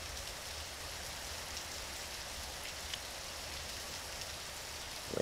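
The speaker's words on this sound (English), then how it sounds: "the rain is actually going to make it harder to hear" Steady rain hissing evenly throughout inside the Garry's Mod video game, a continuous wash of falling drops with no talk over it.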